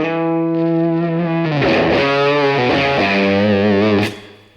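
Electric guitar played with its volume knob rolled down through a distorted effects chain, a few sustained chords and notes with smooth, rounded overdrive, loud and alone until the sound cuts off near the end.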